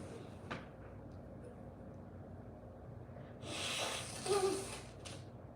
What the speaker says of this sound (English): had to blow my nose there